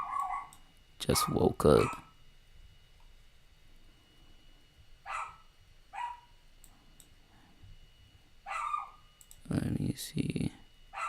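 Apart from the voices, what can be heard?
dog barking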